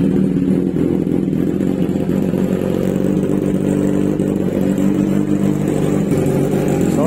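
A Kawasaki Z1000 R motorcycle fitted with an Austin Racing full titanium muffler, idling and revving up close with a loud, deep, steady engine rumble and throaty exhaust note.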